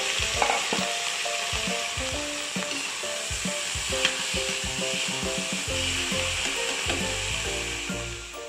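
Potatoes sauté in a hot pan for corned beef, a steady loud sizzle broken by repeated scraping stirs and clinks of the utensil, with no talking.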